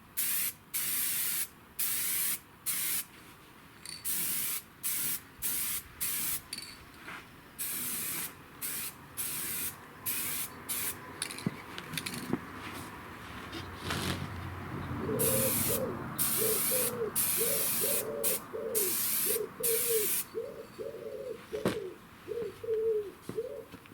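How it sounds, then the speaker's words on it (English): An aerosol can spraying black paint onto the legs of a rusty metal garden chair outdoors: repeated short hissing bursts in a steady on-off rhythm, close up, with pigeons cooing in the background in the later part. "I'm going to tip the legs up when I spray them so I don't get too much black all over my dust sheet"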